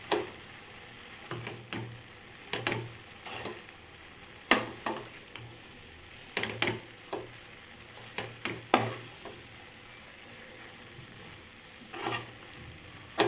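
Egg pasta being stirred and tossed in a frying pan, with soft intermittent scraping clicks and taps from the utensil over a low, steady kitchen hum.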